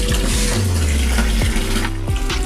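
Water runs from a pipe into a container, a steady gushing pour with a low, shifting gurgle as the level rises.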